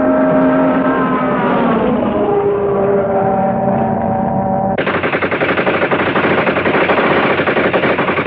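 Machine gun firing in a 1933 adventure serial, loud continuous rapid bursts with an engine drone beneath, the fire rattling harder and denser in the second half.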